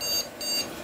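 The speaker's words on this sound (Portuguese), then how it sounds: "de repente ele soou esse bip" A desktop computer's motherboard sounds an error code at startup: two short, fairly faint high-pitched beeps in quick succession.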